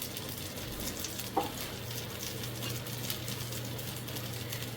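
Wheat dosa frying in oil on a pan, giving a steady, soft sizzle with a gentle crackle throughout and one brief clink near the start.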